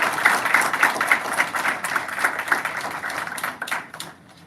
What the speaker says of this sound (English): let's give these fifth graders a round of applause